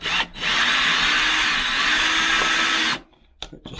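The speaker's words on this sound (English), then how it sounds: "I'll just be putting the screws in" A power drill runs in one sustained, loud whirring burst for about two and a half seconds while driving screws into a wooden batten inside a narrowboat, then cuts off, followed by brief quiet knocks.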